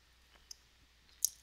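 Two sharp computer keyboard clicks for a save shortcut, a small tap followed by a louder, crisper keystroke, close and isolated against near silence.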